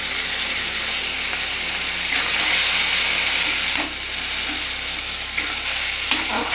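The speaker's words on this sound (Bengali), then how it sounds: "এই মশলাটা আমরা ভাজতে থাকবো যতক্ষণ না তেল বের হয়, ততক্ষণ আমরা এটা ভাজতেই থাকবো।" Ground spices frying in hot oil with coriander, garam masala and a little sugar for an egg korma, a steady close sizzle with occasional spoon scrapes and stirring clatters in the pan.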